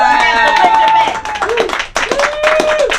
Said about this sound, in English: I can't hear that applause when you give it up.